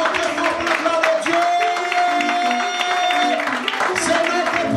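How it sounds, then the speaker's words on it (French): A church congregation applauding loudly for the glory of God, with sustained clapping mixed with cheering voices and a held musical tone underneath. "Applaudissons très fort pour la gloire de Dieu"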